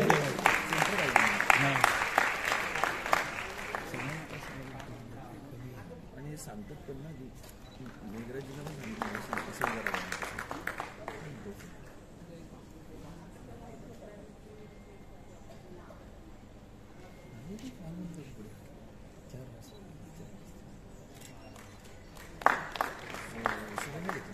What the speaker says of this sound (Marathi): मला वाटतं आपल्या टाळ्या जोरदार झाल्या पाहिजे